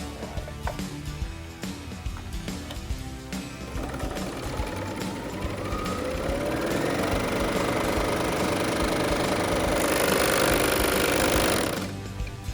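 A serger sewing machine stitches a fabric face mask seam with a rapid mechanical chatter that starts in short bursts, then runs steadily and loudly before cutting off abruptly near the end.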